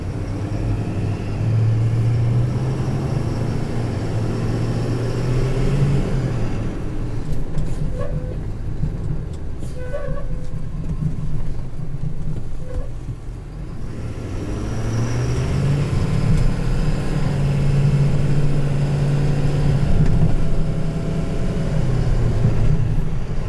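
A 2020 Ford F-650 heavy-duty truck engine rumbles loudly and continuously, its deep drone swelling as it revs and pulls away.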